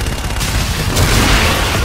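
Artillery strike explosions in the Call of Duty Infinite Warfare video game, a dense loud barrage of booming blasts that swells midway.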